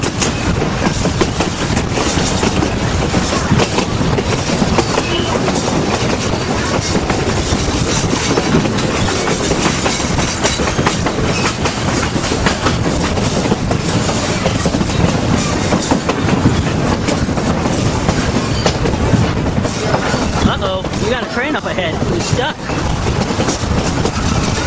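A train runs on railway tracks with a steady rumble and rhythmic clickety-clack of wheels. The sound is loud and continuous and lasts the whole stretch.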